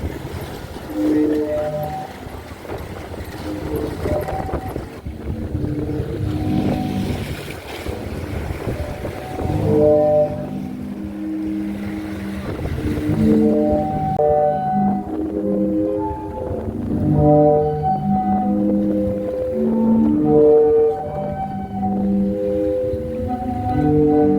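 Waves push air through the pipes of the Zadar Sea Organ on the Croatian waterfront, producing overlapping hollow, whale-like tones that swell and fade unevenly amid wind and lapping sea.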